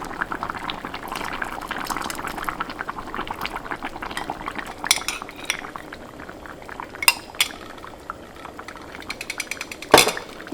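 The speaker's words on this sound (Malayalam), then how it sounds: "ഇനി ഇതിലേക്ക് 1-ാം പാല് ചേർക്കാം." First-extract coconut milk goes into a mango curry boiling in a clay pot: a steady bubbling simmer with soft liquid pouring, a few utensil clinks, and a sharp metallic knock near the end, with no talking.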